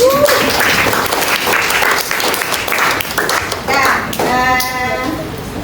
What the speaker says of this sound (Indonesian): kita berikan aplaus buat teman-teman